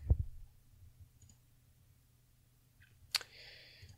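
A single sharp mouse click on the save button in Inkscape, crisp and close in an otherwise quiet room, followed by a faint second click and a soft hiss of computer activity.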